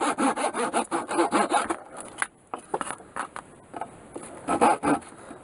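Hand saw cutting off the wooden knobs at each end of a turned whirligig lure blank: rapid, rhythmic rasping strokes, close and fairly loud, pausing briefly midway before a few more bursts of sawing.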